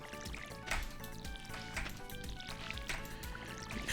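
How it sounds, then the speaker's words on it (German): Hand-watering crops with a watering can in the farming game Stardew Valley: a steady liquid pour and trickle under looping game music. "Heute müssen wir die einfach noch von Hand gießen."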